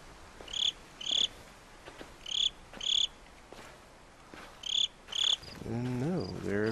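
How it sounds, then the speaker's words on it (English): A cricket chirps in short paired bursts in the game Slender: The Arrival, repeating at irregular intervals over a quiet background, followed by a rising and falling voice at the end. "Shut up, Cricket. I know you're mocking me"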